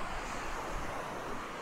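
Ocean waves wash onto a beach on the Côte-Nord, a broad, steady roar of surf mixed with wind buffeting the microphone, continuous and fairly loud with no voices.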